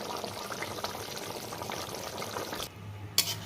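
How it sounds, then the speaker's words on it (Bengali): Ghee poured from above onto a simmering soya kofta curry gives a continuous close hiss and bubbling wash, ending in a brief splash. "একটু ঘি দিয়ে দিচ্ছি উপর থেকে।"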